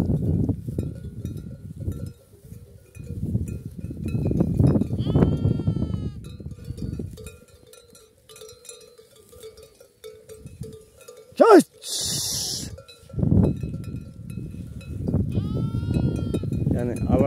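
Sheep bleat in several short calls, some near and some farther off, with a clinking bell at one moment, while people talk over much of the scene.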